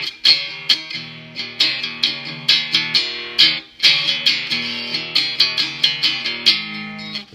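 Three-string cigar-box style guitar played through its piezo pickup straight into a Vox AC15 amp with flat settings and no effects, giving a bright, plucked riff of repeated picked notes with sharp attacks and short decays, played alone.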